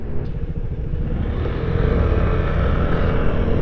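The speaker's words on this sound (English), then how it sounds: "So that's a GTS 300 IE, and he's riding my SH 150 there." A Vespa GTS 300 ie scooter riding past, its engine a steady close drone that grows slightly louder as it pulls away smoothly, with no voices.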